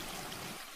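Water splashes and trickles as a story sound effect of crossing a stream, a short, steady wash of rushing liquid that fades slightly at the end, with no voices.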